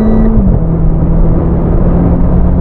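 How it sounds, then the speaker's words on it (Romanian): A Renault Clio RS Trophy with a 1.6-litre turbo and EDC6 gearbox brakes hard and shifts down automatically into third gear. An engine tone steps down early on, and a low, steady in-cabin drone and rumble follow. "dacă frânez violent și țin trasă clapeta din stânga, mașina schimbă automat, observați că s-a dus în treapta a treia"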